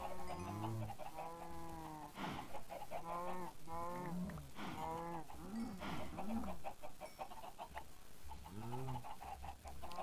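Cows moo in a video game while a flaming sword cuts them down. Short, bleating calls repeat in quick, irregular bursts across the whole stretch.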